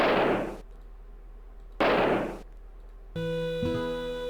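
Gunshots while hunting in Oregon Trail II: two loud, sharp blasts, each fading over about half a second, followed by a bright electronic chime.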